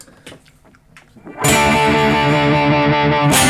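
Electric guitar run through an effects unit placed in front of the amp: a few quiet plucked notes, then a loud, sustained distorted chord rings out and holds before a fresh strike at the end.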